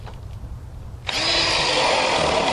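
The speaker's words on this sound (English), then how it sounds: "we're going to go ahead and drill this hole in there" A power drill starts abruptly after a second of quiet and whines steadily at high speed as it bores a starter hole into a window sub sill, loud and close.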